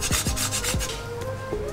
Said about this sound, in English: And a grating of fresh nutmeg.